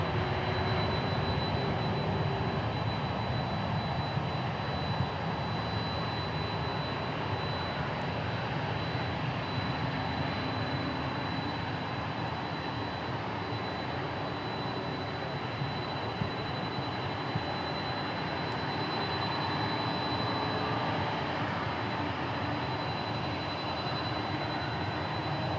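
A Turkish Airlines Boeing Dreamliner jet passes at DFW Airport, a continuous loud engine roar with a thin high whine held steadily throughout, no speech over it.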